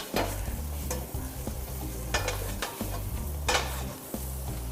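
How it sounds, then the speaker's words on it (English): Curry paste and coconut roast in a hot pan, giving a steady close sizzle with repeated scraping stirs from a spoon every second or so, and no talking. "Just leave it on a hot pan. Let it roast."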